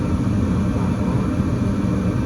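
A household furnace's blower motor runs as a steady, low, droning rumble that holds an even level throughout, with no voices over it.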